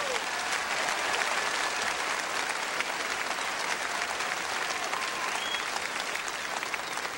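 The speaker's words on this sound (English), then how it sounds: "I appreciate that fine applause." A gospel concert audience at the 1996 Grand Ole Gospel Reunion gives a warm welcome, with dense, sustained clapping filling the hall at an even level for several seconds and faint crowd murmur mixed in.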